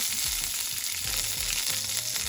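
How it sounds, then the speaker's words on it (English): Green chilies hit hot oil while an aloo kurma is cooked, giving a steady, dense sizzle with scattered pops and crackles throughout, close up and without voices. "Now we're going to add the green chilies. Ooh, it's popping."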